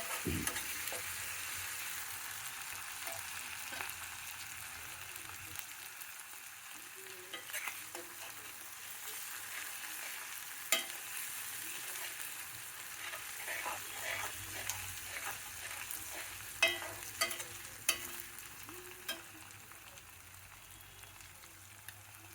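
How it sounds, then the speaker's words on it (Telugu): Ginger garlic paste frying in a pan, a steady close sizzle with occasional scraping stirs and small crackles, no talking. "పచ్చి వాసన పోయే వరకు వేగనివ్వాలి. అల్లం వెల్లుల్లి పేస్ట్,"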